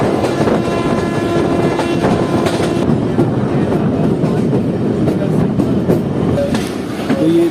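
Jaffer Express passenger train rolling toward the Attock bridge, a continuous loud rumble with steady clickety-clack of wheels over rail joints, heard close from on board, with faint squeals near the end.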